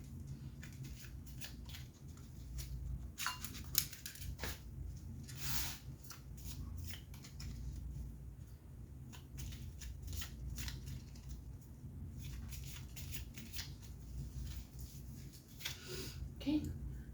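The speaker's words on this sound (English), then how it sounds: "now let's get some clarifying question cards out" Tarot cards being shuffled and drawn, with soft papery rubs and scattered brief card snaps over a steady low background hum, close and fairly quiet.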